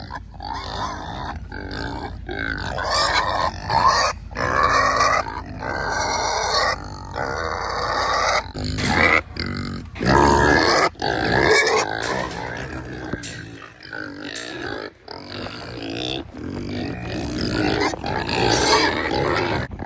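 Pigs, including females, grunt and snort continuously and loudly up close, with overlapping rough grunts in quick irregular bursts and no talking.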